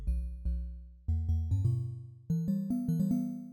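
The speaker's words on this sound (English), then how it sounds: "Just the default device of Collision sounds like this." Default preset of Ableton Live's Collision physical-modeling synth plays a short melodic sequence of bell-like, mallet-struck tones, each a bright plucked strike that decays quickly, fairly soft, with no voices.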